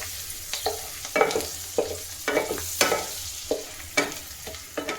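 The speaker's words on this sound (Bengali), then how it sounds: "রসুন দিচ্ছি, আচ্ছা গার্লিক দিয়ে একটু নেড়ে নেব।" Garlic frying in a pan sizzles steadily while a spatula stirs it, giving a run of regular scraping strokes roughly every half second, close and clear with no talking.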